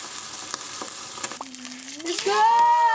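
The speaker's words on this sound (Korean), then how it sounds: "와우 구워지고 있어 드디어" Meat frying in a pan with garnish alongside, a steady sizzle running throughout that grows louder and brighter near the end, with faint voices in the background.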